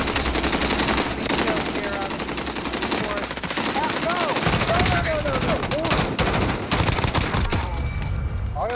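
Sustained automatic gunfire in the video game Modern Warfare Warzone rattles loud and close almost throughout, dense bursts of rapid shots with brief pauses and occasional distant cracks and whistles mixed in.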